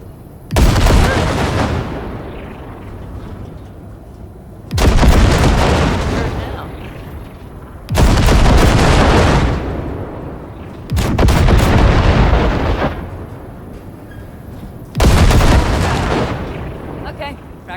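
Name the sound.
Basilisk cannon fire blasting wrecks, from video game Cyberpunk 2077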